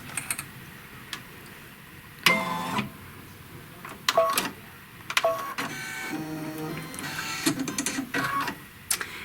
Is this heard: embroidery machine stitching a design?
yes